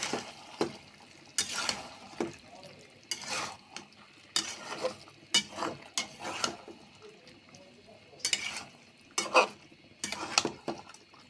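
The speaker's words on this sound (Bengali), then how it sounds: "এখন মাছগুলি আলুর উপরে দিয়ে ভালো করে কষিয়ে নেব" Taki fish sautéed over new potatoes in a pan, heard as faint, intermittent scraping and clinking of a utensil against the pan in irregular strokes, with quiet room noise between.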